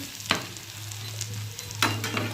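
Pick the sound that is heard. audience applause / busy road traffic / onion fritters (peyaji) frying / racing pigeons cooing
onion fritters (peyaji) frying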